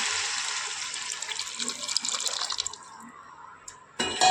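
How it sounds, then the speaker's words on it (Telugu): Tamarind juice poured into a cooking pot with stewed tomatoes, a continuous splashing liquid pour that thins into trickles and stops, followed by a brief clatter at the end. "ఇప్పుడు చింతపండు రసము పోస్తున్నాను."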